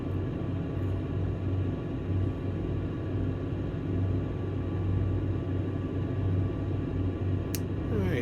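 A helicopter in an air taxi, hovering low and moving forward ahead of a quick stop, gives a steady, loud low rumble that drones on without a break.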